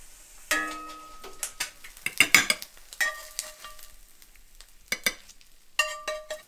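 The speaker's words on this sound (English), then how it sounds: "I got a couple eggs frying" A couple of eggs frying in a pan, their soft sizzle broken by sharp scrapes and clinks from a utensil in uneven bursts, close by with no talking.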